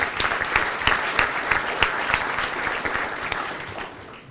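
People at a Parkway board of education meeting clap for a student debater, with distinct sharp claps standing out over a room-filling patter before it tapers off.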